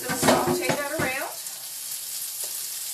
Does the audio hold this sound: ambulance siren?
no